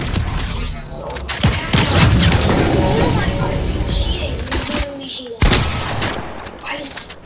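Shotgun blasts and weapon mechanisms in the video game Fortnite, several loud booms with clicks and rattles, mixed under excited talking between players.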